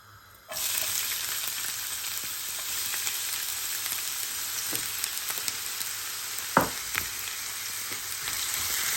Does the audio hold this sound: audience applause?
no